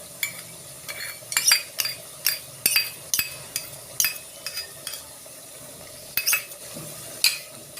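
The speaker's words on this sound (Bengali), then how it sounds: "এবার একটু নেড়ে আমি ওটাকে চাপা দিয়ে দেবো।" Mutton korma with yogurt being stirred in a pan, a spoon scraping and clinking against the metal in irregular bursts over a faint steady sizzle, close and moderately loud, no voices.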